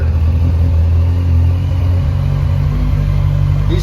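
A Yamaha FZ1 motorcycle engine, not yet warm, idles steadily during a carburetor sync after a rebuild, a loud, even low rumble with a constant hum and no revving.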